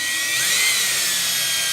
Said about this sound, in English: Now I'll take a 1/16 drill bit,